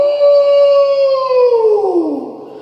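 A man imitates a howl with his voice in one loud, sustained wail that slowly slides downward in pitch and fades out, heard alone.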